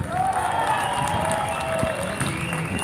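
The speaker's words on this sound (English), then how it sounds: "It's a cheer for the veterans." A crowd at a rally for veterans cheers and applauds in a steady, loud roar of claps and shouts, with a brief whistle rising through the noise.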